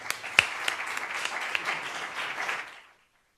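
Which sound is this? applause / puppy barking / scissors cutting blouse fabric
applause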